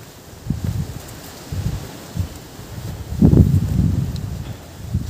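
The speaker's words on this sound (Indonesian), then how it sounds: "Kabut dan anginnya cukup kencang." Strong wind gusts buffet the microphone on a misty mountain trail on Mount Telomoyo, on the Arsal route, producing uneven low rumbling bursts and rustling that swell and fade, loudest near the middle.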